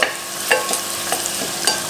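Green chilies frying in a pan for raw banana thoran, stirred with a utensil: a steady sizzle broken by several close, sharp scraping strokes.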